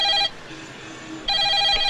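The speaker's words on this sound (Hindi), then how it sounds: "शुभ मुहूर्त पर शुभ घंटी बजी है।" A landline telephone rings with an electronic trill in two bursts separated by a pause of about a second, loud and close, in an indoor room.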